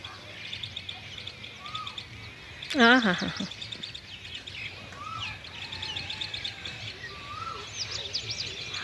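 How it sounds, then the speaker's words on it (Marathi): Small birds perched on a wire in the morning chirp faintly and sporadically over outdoor ambience, with a brief burst of laughter partway through. "तिकडच सुद्धा तारेवर बसलेली आहे, अगदी चिटकले पिटकले पक्षी"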